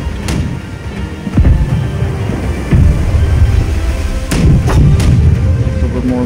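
Deep cannon booms from a pirate ship in the naval video game Blackwake, several heavy blasts spaced a second or two apart, loud and rumbling over steady ambient wash.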